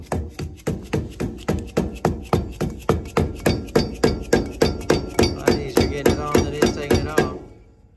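Rapid, evenly spaced metallic hammer strikes, about three per second, ring out close by for several seconds before stopping, as a bearing cap is tapped onto a Dexter travel trailer axle.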